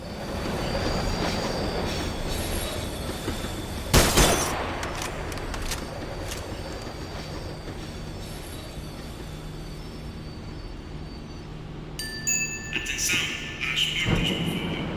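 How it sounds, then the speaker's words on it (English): Tram slowing down in the video game Max Payne 3, a steady rumbling rail roll with a sharp clank around four seconds and squealing wheel sounds and metallic clatter toward the end. "The tram was slowing down, and I'd only just gotten on board."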